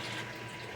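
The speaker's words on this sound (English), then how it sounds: "So I'm going to pour this in." Milk pours steadily into a container while homemade yogurt is being made, a continuous soft liquid rush that stays close and even throughout.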